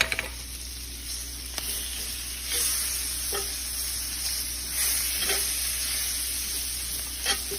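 Onions and flour cooking in a pan for gravy, a steady close sizzle with occasional soft stirring scrapes and light knocks against the pan, no talking.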